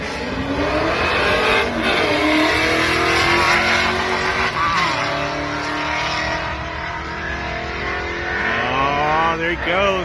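An LT1 Camaro launches and accelerates hard on a track day, its engine climbing through repeated rising revs between gear changes, loud and close, with voices mixed in.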